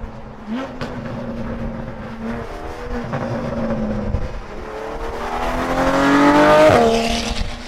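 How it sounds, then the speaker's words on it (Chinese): A Porsche 718 Boxster GTS with its naturally aspirated 4.0 engine and a first-version IPE demo exhaust revs up, its note climbing and falling through several rising sweeps before peaking loudly near the end. "那我们就来试试看，就是这支 IPE 的 demo 的排气管"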